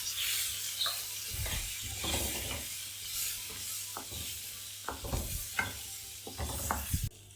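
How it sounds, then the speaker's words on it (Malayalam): Quail eggs frying in a pan with turmeric powder, giving a fairly quiet continuous sizzle under intermittent stirring scrapes and knocks from a spatula. "നമ്മുടെ കാടമുട്ട ഇട്ട് കൊടുക്കുകയാണ്. പിന്നെ ചെറുതായിട്ടൊന്ന് ഫ്രൈ ചെയ്തെടുക്കണം."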